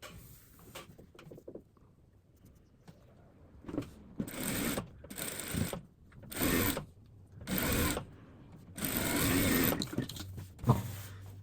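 A sewing machine stitches a patchwork block for a cushion cover in short whirring runs, about five bursts of rapid mechanical chatter separated by quiet pauses, close and fairly loud.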